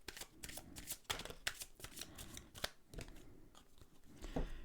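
Tarot cards are drawn from a deck in a quiet room, with soft repeated slaps, slides and papery shuffling close to the listener, faint and irregular, without speech.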